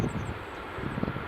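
Airplane in flight, almost gliding, a low steady engine drone with a faint airy rush, distant and even throughout, no voices.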